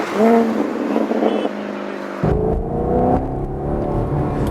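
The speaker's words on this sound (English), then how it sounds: "you're gonna get an incredible burble from the V8 engine" A Maserati Gran Turismo S V8 burbles loudly up close as the car downshifts, a deep throaty engine note that drops in pitch and then picks up again with a rumbling rev, with no talking over it.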